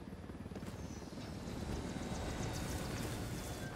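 A helicopter in Ghost Recon Wildlands hums and whirs as a steady, broad rotor wash, continuous and fairly close with no breaks.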